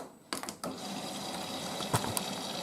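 A Miele W562 Prestige Plus 6 washing machine on a Cottons 95 cycle with Water Plus draws in water through its stain-remover compartment. Rushing inflow hisses steadily, with a couple of sharp knocks and clicks near the start.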